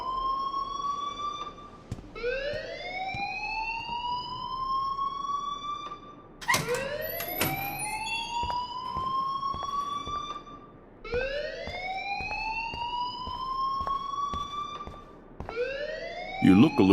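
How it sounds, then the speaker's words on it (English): A school alarm in the video game Life Is Strange sounds in repeated rising electronic sweeps, each a few seconds long with short gaps between, loud and steady alongside brief clicks and a thump. "please turn off that alarm since that's your job"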